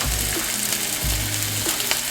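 Salisbury steak patties browning in a hot pan on medium heat, giving a steady close sizzle with a couple of low thumps as they shift.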